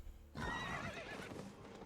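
A horse neighs loudly and close in the Albion Online game, a long whinny that rises sharply and wavers before trailing off, with no talking over it.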